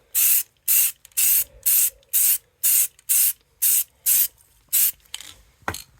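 Spray paint hissing in about ten regular, evenly spaced bursts from an aerosol can coating a gun fitted with a fabric suppressor cover, close and loud, each burst cut off by a short pause, with no voices.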